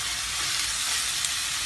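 Steady, loud sizzle of food frying in hot oil in a pan, a continuous bright crackling hiss with no breaks or speech.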